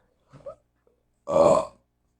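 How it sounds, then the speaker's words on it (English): A man belches once, loudly and up close, a short throaty eructation after a faint brief onset, with quiet around it. "I am so sorry. I have to belch."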